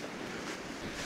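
A strong headwind and waves hit a fishing boat at sea off snowy Chuja Island. A dense, steady roar of wind and surf fills the brief moment with no voices.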